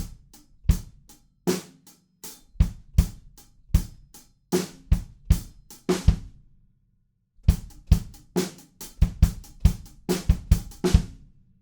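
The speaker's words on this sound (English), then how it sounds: "And then the last bar of the song for the drums sounds like this." A drum kit plays the closing bar of a song, with sharp, close hits in a syncopated pattern, then a short pause before a second burst of rapid strokes and cymbal crashes.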